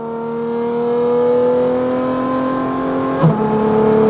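A tuned Ferrari engine with its exhaust valves open pulls hard under acceleration, a loud, steady rising drone rich in harmonics, with a brief thump and shift near the end, heard from inside the car on a cold highway.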